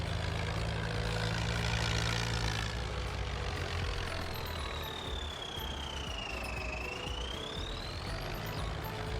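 A Ford 6610 tractor engine runs steadily in Farming Simulator 19, a continuous droning rumble with low mechanical chugging, joined midway by a rising and falling whine, with no talk.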